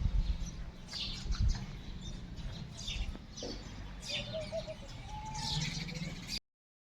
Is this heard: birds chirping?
yes